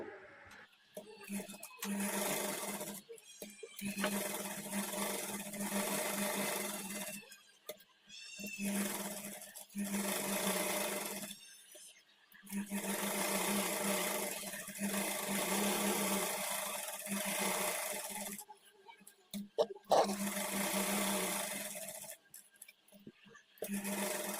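A sewing machine attaches lining to the main fabric of a kids' peplum blouse, humming in repeated bursts of several seconds separated by brief stops.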